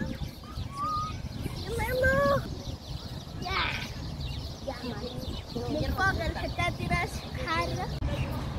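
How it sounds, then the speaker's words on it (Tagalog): Noisy birds chirp and tweet in short bursts close by, with some cooing calls mixed in, while people talk over them throughout. "ang ingay ng mga ibon"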